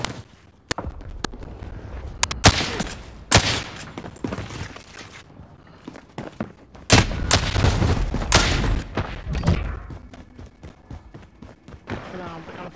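Gunfire in a Call of Duty match rings out as scattered sharp shots and rapid bursts, close and loud, with irregular pauses between volleys and voices talking over parts of it.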